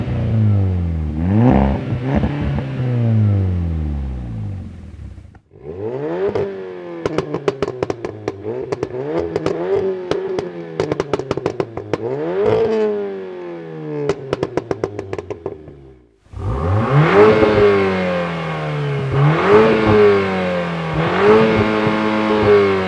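Three tuned Volkswagen Golf R hatchbacks, a 450 hp MK6, a 420 hp MK7 and a 400 hp MK8, rev their engines in turn, loud close rising and falling revs with sharp crackles and pops between pulls.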